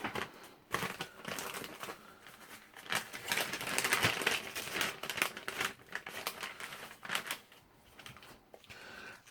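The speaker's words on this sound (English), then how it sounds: "Okay, so FRH, you rip the top off." The pouch of an MRE flameless ration heater is torn open and handled at close range, giving sharp crinkles, rustles and ripping crackles in uneven bursts.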